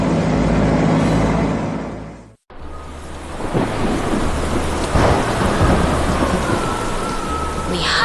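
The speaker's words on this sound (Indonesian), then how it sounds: "Lihatlah badai besar itu." Heavy thunderstorm with steady loud rain pouring down and deep rolls of thunder, broken by a brief cut to silence before the downpour resumes at full strength.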